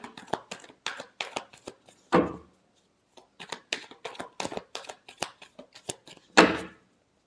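Tarot cards shuffled by hand in quick papery riffles and flicks, with two longer louder riffle bursts and a brief pause between, close and dry with no talking.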